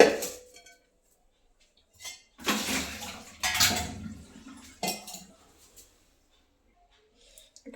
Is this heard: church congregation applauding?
no